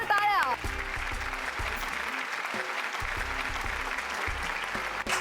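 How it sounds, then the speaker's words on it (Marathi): A TV show audience breaks into sustained applause as the next performer is introduced, with steady, full clapping under a faint background musical tone and a brief voice at the start. "जोरदार टाळ्या."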